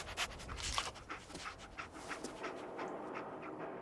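Dogmeat, the dog companion in Fallout 4, pants rapidly and rhythmically up close, a steady breathy panting with no talk over it.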